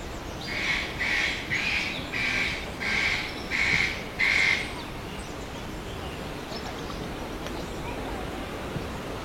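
Captive birds call in an artificial forest in Hong Kong, six loud, evenly spaced squawking bursts over about four seconds, then only a steady wash of running water and ambient noise.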